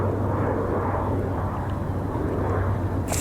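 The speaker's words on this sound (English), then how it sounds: "This is an ATI Learjet out of Naples, Florida this afternoon." An ATI Learjet business jet from Naples, Florida passes overhead near Cleveland, a broad steady engine roar with a low rumbling undertone that holds throughout.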